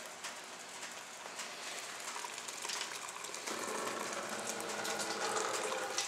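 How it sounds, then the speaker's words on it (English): Cool beer wort pours from a chiller into a bucket during all-grain home brewing, making a steady close splashing rush that grows fuller and louder about halfway through. "that sound is the sound of cool wort going into the bucket"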